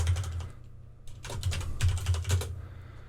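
Typing on a computer keyboard while renaming an object in Blender: close, quick clusters of key clicks with short pauses between bursts, alone without talk.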